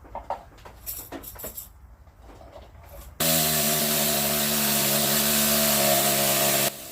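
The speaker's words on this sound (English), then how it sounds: "The needle scaler is a pneumatic tool used for removing slag from welds." A pneumatic needle scaler hammering on a large piece of petrified wood, starting abruptly after scattered small knocks and scrapes and then holding a loud, steady buzzing rattle for several seconds before cutting off.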